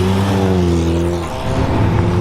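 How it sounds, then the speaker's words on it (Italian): A vintage Fiat 127 arrives at a classic car rally in Follina, its small engine humming steadily and loudly up close, the note shifting and roughening as it draws near. "sta arrivando una delle mie auto preferite, Fiat 127"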